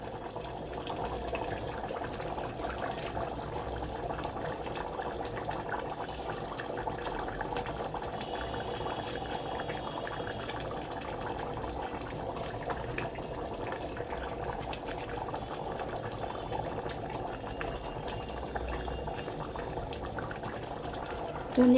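Beef liver simmers in water in a pan on a gas stove, giving a steady, low, bubbling sizzle with faint liquid churning that continues evenly throughout.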